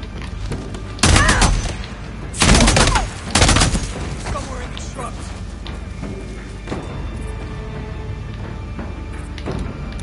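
Gunfire in the zombie survival game Days Gone: three loud, heavy bursts of shots in quick succession, followed by quieter background game ambience and faint scattered noises.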